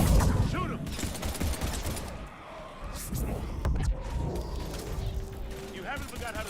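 Gunfire in Mass Effect 2 comes as rapid bursts of shots, heaviest at the start and then scattered and intermittent, under frequent urgent voices in the middle of combat.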